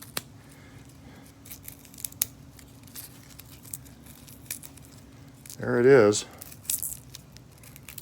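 Papery skin is peeled off a bulb of elephant garlic, giving one brief, close crackling tear amid quiet handling noises, and a voice speaks briefly.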